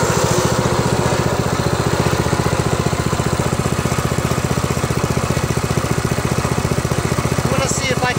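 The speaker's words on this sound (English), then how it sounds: "It's running very smoothly on idle." A Harbor Freight Predator 212cc 6.5 horsepower horizontal shaft engine idles steadily and loudly close by, a smooth, even rapid chugging that holds unbroken throughout.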